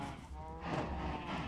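Several Minecraft cows lowing in the video game, a drawn-out moo swelling in the middle and carrying on with a second bellow, close and moderately loud with no talking over it.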